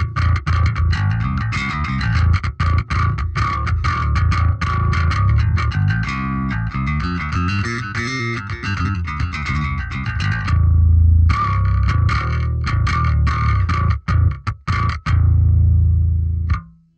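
A Marcus Miller V7 jazz bass played with the equalizer off: punchy, percussive notes in quick rhythmic runs, loud and close, with brief gaps near the end and no voices.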